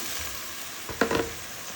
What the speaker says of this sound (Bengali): এখন আমি আগে থেকে ধুয়ে রাখা এই যে কচুগুলো দিয়ে দিচ্ছি